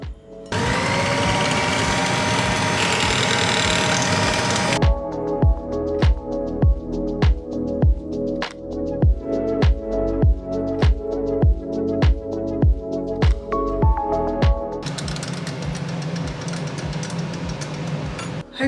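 An electric mixer whirs steadily, gives way to a run of regular rhythmic clicking thumps, then whirs again near the end.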